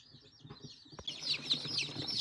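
Chicks cluck and peep softly while eating compound feed, a busy scatter of small calls that grows denser and louder after a brief knock, with no talk.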